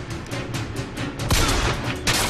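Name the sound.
gunfire from the video game BioShock Infinite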